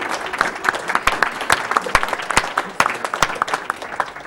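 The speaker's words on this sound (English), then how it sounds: "Keep clapping" Audience applause at the AGDQ 2014 speedrun charity event, with steady clapping from a crowd of many hands, dense and continuous with a few sharper claps standing out, fairly close.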